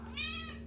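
A house cat lets out a single short, clear meow close by, rising and falling in pitch over a steady low hum, with no talking.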